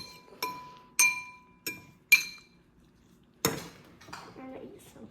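Butter lettuce salad is tossed in a bowl, with sharp ringing clinks of utensils striking the dish at irregular intervals, followed by softer clattering and scraping up close.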